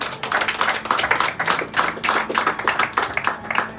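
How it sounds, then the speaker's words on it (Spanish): A church congregation claps in a lively, fast rhythmic pattern, many hands striking together in quick even pulses that continue steadily throughout without speech. "Dele palmas."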